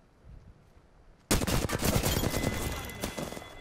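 Rapid automatic gunfire bursts in the Apex Legends video game on PS4, starting abruptly after a quiet moment and continuing as a dense, loud stream of shots.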